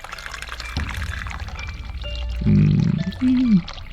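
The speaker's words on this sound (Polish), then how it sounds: "Zlew. Puścimy gorącą wodę." Hot water runs into a sink in the horror adventure game The Cat Lady: a short, loud splashing pour rises after a soft knock, then a brief gurgling swirl follows, all alone without talk.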